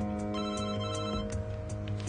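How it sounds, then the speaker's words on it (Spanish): A mobile phone rings on its own, a repeating electronic ringtone pulsing in short bursts at moderate volume in a quiet room. "¿Es el teléfono de Paul?"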